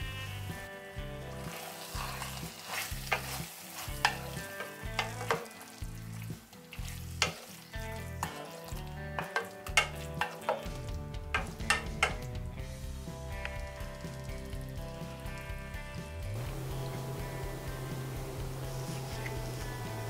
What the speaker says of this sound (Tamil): சேர்த்துட்டு இத மறுபடியும் நல்லா கலந்து விட்டுட்டு 2 நிமிஷம் வேக வச்சிருங்க.